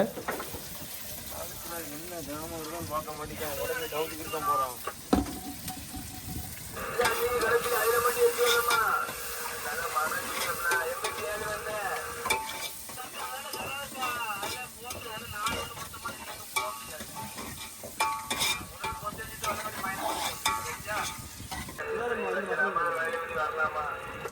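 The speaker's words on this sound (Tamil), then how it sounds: "இப்போ குழம்பு வேலையை அண்ணன் ஸ்டார்ட் பண்ணிட்டாங்க இஞ்சி பூண்டு வெங்காயத்தை இப்போ வந்து அண்ணன் போடுறாங்க" Ginger, garlic and onion sizzling in hot oil as the base for a yellow parrotfish curry, cooked on a fishing boat; steady frying hiss with stirring clatter over close, continuous background talk.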